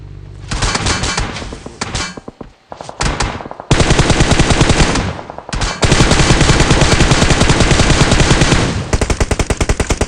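Loud, rapid bursts of automatic gunfire in the video game PUBG Mobile repeat in long volleys with brief pauses, harsh and close, with no talking.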